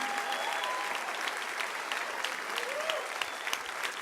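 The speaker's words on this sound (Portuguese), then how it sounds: "Continue aplaudindo, por favor" Steady applause from a church congregation continues through the service, a thick, even crackle of many clapping hands with faint vocal sounds drifting underneath.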